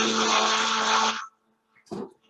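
A kitchen blender whirs loudly and steadily while blending soup during a traditional Irish cooking class, cuts off after about a second, and is followed by a short clunk.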